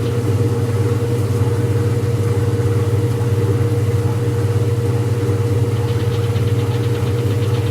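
Washing machine drum spinning down, with the board beneath it rattling: a loud steady droning hum with a buzzing vibration held close and constant, no voices.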